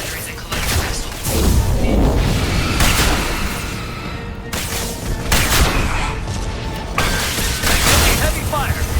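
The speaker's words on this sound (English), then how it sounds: "Firing anti-ship batteries at collector vessel." Anti-ship batteries pound a Collector vessel in Mass Effect 2, with loud, booming volleys and mechanical rumble repeating over nine seconds while voices speak.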